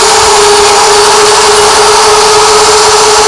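A RUVO 930 Hercules machine running its pre-drilling stage gives off a loud, steady mechanical roar with a constant high whine, unbroken and without talk.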